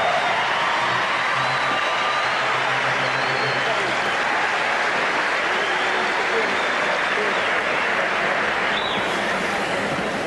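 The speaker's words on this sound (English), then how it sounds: "Let's have a round of applause for the Western Conference All-Star." Arena crowd at the 1981 NBA All-Star Game roaring with sustained applause and cheering for the Western Conference All-Stars, a dense, loud, continuous wall of sound with a voice faintly audible beneath.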